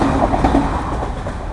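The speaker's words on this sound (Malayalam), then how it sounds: "അടുത്ത ട്രെയിൻ വരുന്നുണ്ട്" A train passes a level crossing near Ettikkulam beach, a loud, close, continuous rumble with rolling wheel noise throughout.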